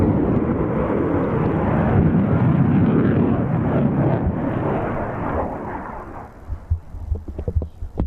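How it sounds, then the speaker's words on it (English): Eurojet EJ200 turbofans light their afterburners in an airshow flypast at Old Buckenham, a loud, broad roar that swells, then fades away into scattered low thumps and crackles. "On with the burners. Igniting fuel behind the Eurojet EJ200 turbofans."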